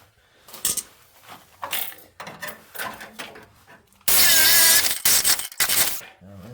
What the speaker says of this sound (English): Maybe I can get that a little better with the Sawzall.